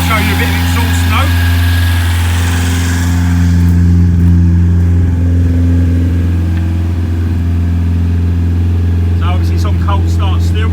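Ford RS Turbo engine fitted with a stage 4 racing camshaft, idling rich on a cold start, gives a steady, loud, lumpy exhaust drone with a slightly rattly edge that carries through the whole stretch, with faint talk now and then.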